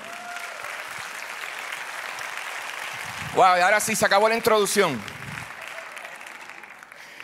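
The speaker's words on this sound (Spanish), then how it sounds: "Dale un aplauso más fuerte." Church congregation applauding during a worship service, a loud burst of clapping and cheering that rises briefly over a steady room murmur, with someone speaking Spanish over it.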